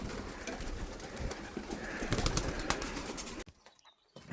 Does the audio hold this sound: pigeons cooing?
yes